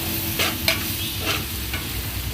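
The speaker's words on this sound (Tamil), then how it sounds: "மசாலா ஆட் பண்ணக்கப்புறம் நல்லா மிக்ஸ் பண்ணிக்கோங்க." Masala is stirred in a frying pan, with several short scraping strokes over a steady low sizzle, close and fairly loud throughout.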